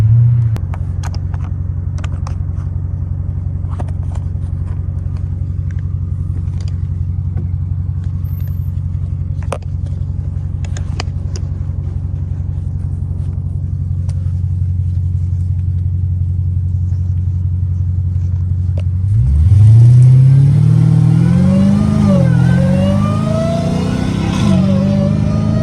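A catless Dodge Hellcat Redeye V8 rumbles steadily at cruise, then roars loudly under hard acceleration, its pitch climbing and dropping through several quick, smooth gear shifts.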